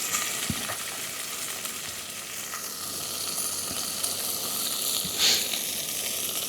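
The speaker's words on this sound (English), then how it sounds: "keep flipping the bacon" Bacon strips frying in a pan over a camp stove, a steady close sizzle and crackle with a few faint clicks of turning as the pieces are flipped, no voices.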